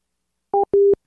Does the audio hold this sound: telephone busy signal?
yes